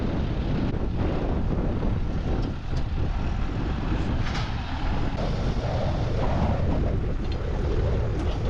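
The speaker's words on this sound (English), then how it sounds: "the wind will die down" Strong wind buffets the microphone on a small hay farm, a loud continuous roar with heavy low rumble and gusty surges that barely ease, with no other sound clearly audible.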